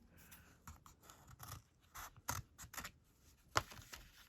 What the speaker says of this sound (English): I'm going to cut this excess off here